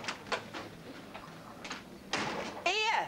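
A door in a domestic scene is handled, with a few light knocks and rattles, then a louder sliding scrape and a squeaky creak at the end, fairly close.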